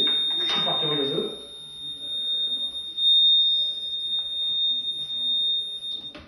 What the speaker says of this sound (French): Vous voyez mon téléphone qui sonne là, c'est des alarmes.